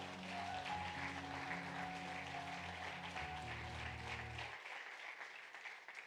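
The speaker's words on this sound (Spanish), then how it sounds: "Dale un aplauso al Señor" A church congregation claps steadily under sustained background music, with the music cutting out as the applause continues faintly into the end.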